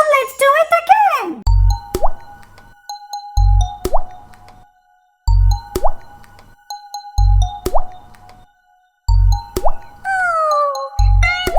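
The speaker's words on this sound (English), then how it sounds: "It's raining." Cartoon raindrop effects play in a children's song: evenly spaced drips and plops, each with a sharp watery pluck over a low thump, between sung lines and a falling sigh-like tone.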